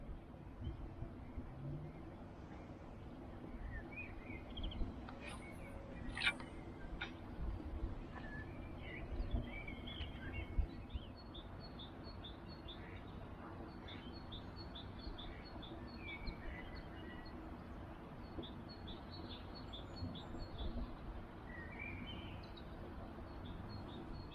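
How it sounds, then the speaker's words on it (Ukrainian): Faint birds chirping and singing in the distance during April feeder fishing, scattered high calls over a steady low hum of water and engine noise outdoors. "Друзі, пташки так співають."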